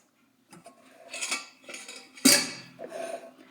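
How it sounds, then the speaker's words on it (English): A knife chops through roasted pumpkin on a board, a run of irregular knocks and clicks close by, with one sharper clack partway through. "I'm just going to chop up the pumpkin while I chat."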